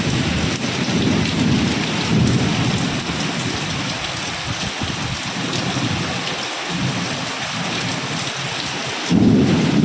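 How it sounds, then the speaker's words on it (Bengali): Heavy rain pours steadily in Kolkata while thunder rumbles low and loud, swelling again near the end; no voices. "একদম জোরে জোরে বাজ পড়ছে কলকাতায়।"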